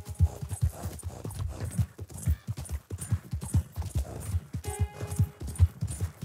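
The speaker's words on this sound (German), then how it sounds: "So, und wir reiten jetzt mal den Schienen nach." In the Red Dead Redemption 2 video game, horse hooves gallop along railway tracks in a brisk, steady clip-clop rhythm, close and fairly loud, with no talking over them.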